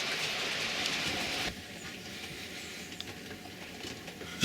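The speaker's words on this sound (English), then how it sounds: "film a train going down there." A model train rumbles steadily along the track with light clicking, loud at first and then quieter as it moves away, with a sharp knock at the end.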